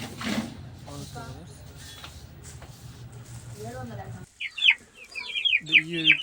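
Hens for sale cluck and squawk in short bursts near a seller, with people talking over steady background noise before the birds grow louder.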